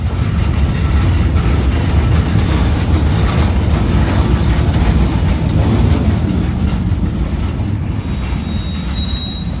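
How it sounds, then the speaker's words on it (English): A CPKC interchange freight train creeps slowly past on BNSF track in Minot with old Soo Line cabooses used as shoving platforms, giving a loud, continuous rumble of wheels and railcars with high squealing from the wheels throughout. "to see this interchange rolling past"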